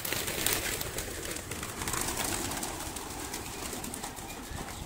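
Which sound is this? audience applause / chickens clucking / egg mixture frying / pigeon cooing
pigeon cooing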